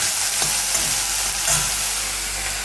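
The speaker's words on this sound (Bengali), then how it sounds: "এটা একদম লাল লাল করে ভেজে নেব" Food frying in a pan over a gas flame, a steady loud sizzle with a couple of soft stirring scrapes, close up and continuous with no talk.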